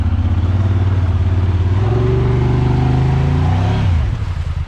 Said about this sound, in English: See how these tires do in the mud real quick. Low range engage, first gear.